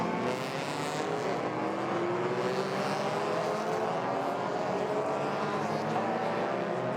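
Race cars including Suzukis, Hondas and a Mercedes-AMG A45 on a near-perfect track in the Malaysia Championship Series produce a steady, loud engine drone with rising tonal whine, continuous and dense throughout.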